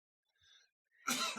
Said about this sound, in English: Sorry, I'm coughing over here.